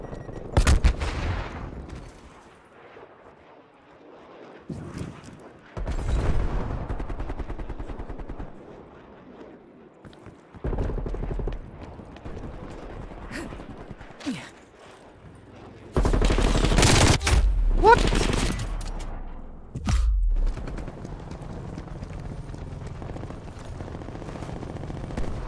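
Gunfire in the video game Call of Duty Black Ops Cold War: loud bursts of automatic fire and single shots come in irregular clusters, with some heavy blasts, separated by quieter gaps.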